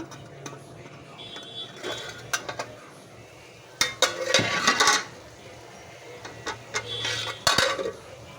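Metal lid lifted off a cooking pot of khoira fish with three vegetables, bright clanks and scrapes of metal cookware in irregular bursts against a quiet kitchen background.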